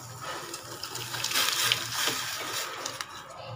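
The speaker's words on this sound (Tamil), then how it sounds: "இப்போ நம்ம அதில் அரிசி சேர்த்துடலாம்." Rice being added to a pot of boiling water, with a broad, steady splashing and sloshing of liquid throughout, moderately loud and close, without any speech.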